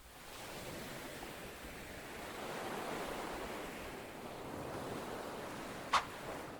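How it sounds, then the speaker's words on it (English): Rough surf churns in a continuous broad roar, swelling and easing slightly, with a sharp brief click near the end. "The ocean is no longer calm."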